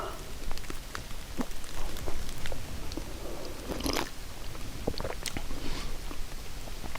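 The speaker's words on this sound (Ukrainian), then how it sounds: "дерев капає вода" Water drips from trees after rain, drops pattering irregularly on leaves and ground outdoors: a soft, steady wet backdrop with occasional sharper plinks.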